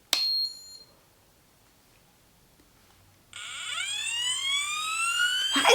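A GHD Duet 2-in-1 hot air styler starts after a short beep and a quiet pause, rising into a loud, steady high-pitched whine and rushing airflow that climbs in pitch as it spins up, close and alone.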